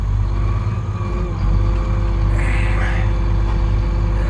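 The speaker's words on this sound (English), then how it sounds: "I'll take the truck down the road" A truck drives down a farm road on a cold, windy day, its engine a steady low rumble that fills the whole stretch with constant road and wind noise underneath and no clear talk.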